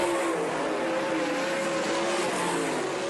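Race cars roaring around a dirt oval track, a steady, loud engine drone that holds without a break for the whole stretch, with no talk.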